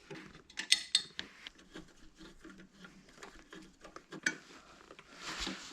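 Screws being worked loose from the protection plate of a 2020 KTM 1290 Super Duke R, giving close, irregular metallic clicks and light scraping taps with no talking.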